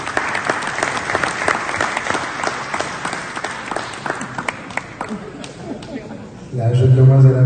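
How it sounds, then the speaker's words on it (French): An audience at an event applauds steadily, a thick wash of clapping that swells louder near the end, where a voice is heard over it. "Les applaudissements, s'il vous plaît."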